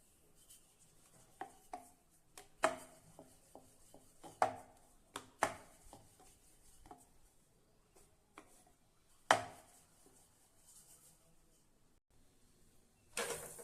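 Ragi millet chapati dough is rolled out in a home kitchen, giving quiet, irregular knocks and soft rubbing taps, some sharper than others, spaced a second or so apart with no talking.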